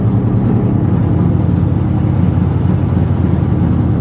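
A 1957 Chevy engine runs with a misfire on one side, a continuous, close, rumbling idle with an uneven pulsing beat and no talk over it.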